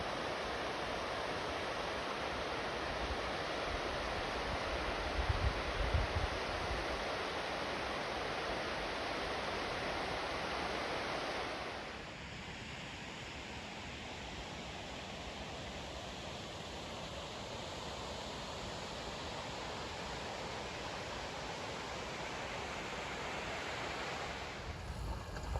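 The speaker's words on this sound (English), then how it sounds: "I'm just going to go and take a look at these waterfalls" Waterfalls in the Cwm Llan valley, heard as a constant broadband rush of falling water that drops slightly in level partway through and then continues steadily, with no talk.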